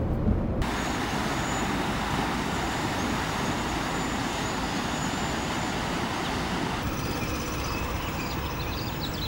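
An RV climbing Vail Pass in Colorado in fifth gear at about 60 mph, a loud constant engine drone and road roar filling the cab, with a brief shift in tone near the end.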